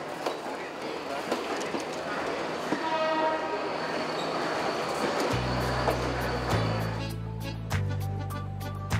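Passenger train running on the rails in Sri Lanka, heard from on board: continuous rumbling wheel noise and clatter, then a loud, sustained horn blast in the second half.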